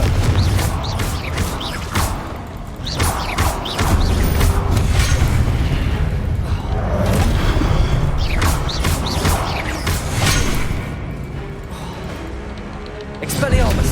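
Booming, crashing blasts and mechanical clatter from the Confringo blasting spell in the Hogwarts Legacy video game, aimed at statues, repeat loudly over a busy game soundscape, with voices mixed in.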